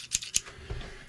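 A pair of freshly sharpened scissors snaps shut twice in quick succession, giving two crisp, close metallic clicks followed by a faint low rustle.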